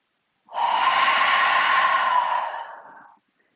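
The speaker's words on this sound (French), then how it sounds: "Encore inspirez par le nez. Expirez." One long, steady breath through the nose during a calm breathing exercise, close and fairly loud, with a smooth airy hiss that swells quickly, holds for over two seconds and then fades out, with silence on either side.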